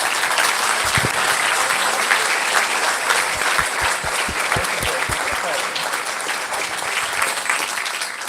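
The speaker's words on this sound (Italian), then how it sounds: "Ringrazierei il professor Cottarelli con un applauso per tutti gli spunti." Audience claps after a book talk with an economics professor, a full sustained round of applause from a room of listeners, steady and close, with a few louder hand claps near the start.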